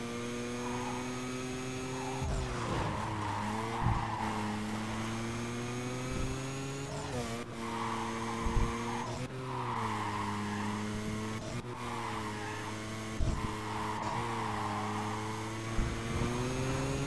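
A car in Need for Speed Carbon brakes hard with repeated tire skids and squeals over a steady engine drone, the squeals recurring in several bursts through the run.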